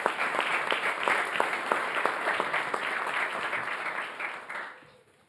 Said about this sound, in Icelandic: klappum fyrir henni líka